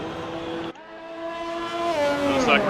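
Race cars on the opening lap at Singapore in a racing video game, engine tones droning and rising in pitch after a brief drop, loud and continuous with no talk.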